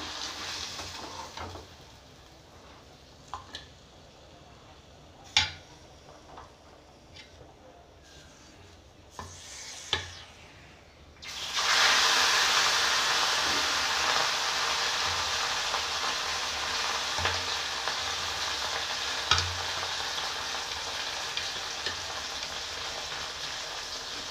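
Fish frying in hot salted oil, a steady bright sizzle that starts abruptly and holds loud and close, after a quieter stretch of kitchen clatter and scattered clicks.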